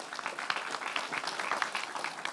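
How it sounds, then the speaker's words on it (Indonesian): An audience at a Kenduri Cinta forum gathering claps in a brief burst of dense, lively applause, with a voice faintly audible underneath. "Tepuk tangan buat Mas Aziz."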